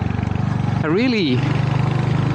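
A Royal Enfield Hunter 350 motorcycle rides mountain twisties, its steady engine drone suddenly rising and falling in pitch through a quick gear change before settling into a lower, even rumble.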